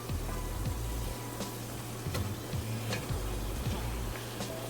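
Finely chopped onion, minced in a food processor, sizzles steadily in a hot pan alongside browning meat for lasagna roll-ups. The crackle is loud and continuous, with a low hum underneath and a few faint scraping ticks.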